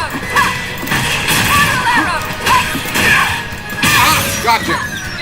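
Cannon spike attacks land during an online fighting video game match played on an arcade stick: a run of loud crashing hits and swishing whooshes over busy game effects, with a voice talking throughout.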